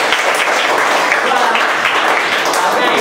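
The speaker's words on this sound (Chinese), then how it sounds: "给张东宁掌声鼓励" A classroom of elementary-school children applauds a pupil who has volunteered: dense, steady clapping from many hands, loud and close, sustained for several seconds with some voices underneath.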